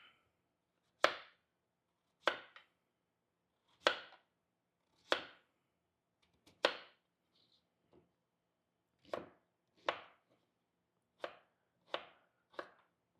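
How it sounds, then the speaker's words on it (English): Knife chopping sweet potatoes into bite-sized cubes on a cutting board, about a dozen crisp, distinct thuds spaced a second or so apart, close and clear against near silence. "we're going to cut these into kind of bite-sized cubes"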